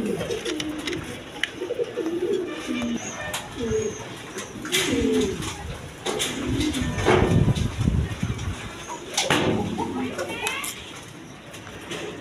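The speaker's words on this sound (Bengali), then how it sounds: "এখানে এক পেয়ার চুয়াচন্দন কবুতর আছে" A pair of Chuya Chandan pigeons coo repeatedly in low, rolling phrases, close by, with faint background chatter and other birds now and then.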